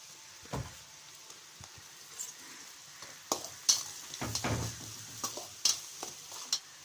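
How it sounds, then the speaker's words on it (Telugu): Curry leaves dropped into hot oil in a pan for chicken fried rice, with crackling sizzle and several sharp spatters and pops, plus a few stirring scrapes, close and moderately loud. "అయితే ఫ్రై అవుతున్నాయి కదా, ఇప్పుడు కరివేపాకు అయితే వేసుకుంటున్నాను."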